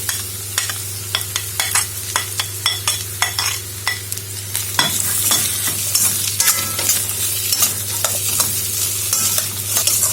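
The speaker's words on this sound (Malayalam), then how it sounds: "പൊട്ടറ്റോ ഈ എണ്ണയിൽ ഒരു 5 മിനിറ്റ് വഴറ്റണം." Potatoes fry in oil for a Kerala potato mezhukkupuratty while a utensil stirs them, giving repeated scraping strokes over a steady sizzle that grows busier halfway through, with no talking.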